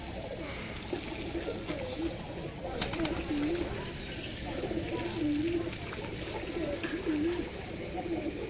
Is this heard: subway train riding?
no